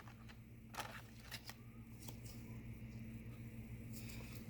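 Tarot cards being shuffled by hand, a few quiet, sharp riffling bursts and taps spread irregularly over a low, steady background hum.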